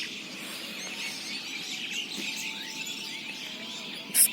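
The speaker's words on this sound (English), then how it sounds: "Every morning I wake up hearing song of this bird" A bird sings in the morning at a park in Bogura, Bangladesh, with repeated chirps and whistled notes over a soft ambient background, plus a brief sharper call near the end.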